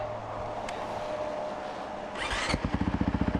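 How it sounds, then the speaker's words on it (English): A Honda CRF450L dual sport motorcycle fires up outdoors in wind, a short starter burst followed by a close, loud run of rapid, evenly spaced engine pulses. "I'm going to fire the bike up."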